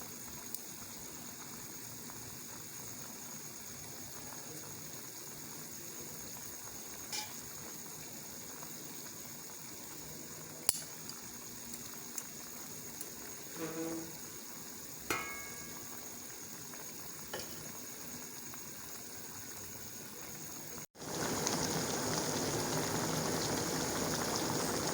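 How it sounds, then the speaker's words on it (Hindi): Quail simmering in a pot for a karahi dish, a soft steady bubbling hiss with a few faint clicks and pops, quiet and close, ending in a louder burst of sizzle. "ये देखें, ये बटेरे गल रहे हैं"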